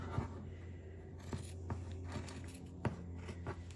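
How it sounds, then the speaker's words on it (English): Quiet, crisp snipping of scissors cutting a fabric corner close by, several short cuts at uneven intervals over a steady low hum, with no voices. "Now take your scissors, cut the corner."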